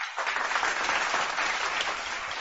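An audience applauds Barbados on gaining its independence, a steady, dense wash of clapping that holds at an even, fairly loud level for the whole stretch, with no voices over it.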